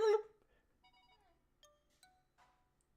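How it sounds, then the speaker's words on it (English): Phone-like ringing tones in the music of the DOS video game Phantasmagoria, a few thin, faint electronic chirps spaced apart in near silence after a brief louder thump at the start. "It sounds like a phone."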